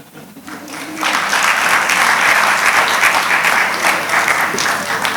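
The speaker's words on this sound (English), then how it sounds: "A round of applause for the panel." A conference hall audience breaks into sustained, loud applause for a panel at an annual law conference, the clapping starting after a brief quiet moment and continuing steadily to the end.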